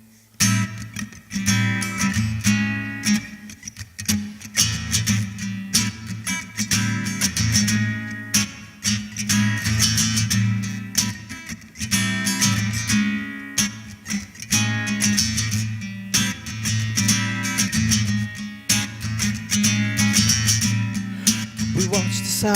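A live band at Uptown Bill's plays a sustained, swelling passage meant to imitate waves hitting the shore on a St. Croix beach, with steady low bass tones under shimmering cymbal washes, loud and continuous throughout.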